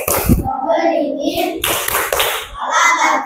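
Schoolchildren in a classroom chant the tepuk Pancasila, voices calling out words in rhythm between short bursts of hand clapping, close and fairly loud.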